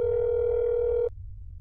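A phone dial tone in the game That's Not My Neighbor hums as one steady, clean tone for about a second, then cuts off abruptly, leaving only a faint low background.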